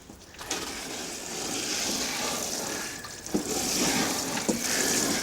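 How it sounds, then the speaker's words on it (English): Rainwater from a water butt is poured onto newspaper bedding in a worm bin, a close, steady splashing trickle that swells and continues for several seconds. "put some rainwater out of my water butt, soak the newspaper slightly"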